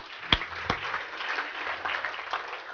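An audience at a regional chamber of commerce meeting applauding, a couple of sharp near claps followed by a dense, moderately loud spread of clapping that holds steady, with no talk over it.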